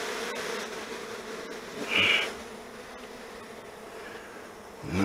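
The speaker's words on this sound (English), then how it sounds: "There's a lot of bees in this box." A steady, low drone of many honeybees buzzing in a hive box continues throughout, with one bee buzzing louder and closer for a moment.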